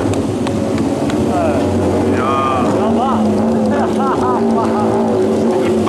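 A low motorcycle engine rumbles steadily nearby, with faint chirping birds above it throughout.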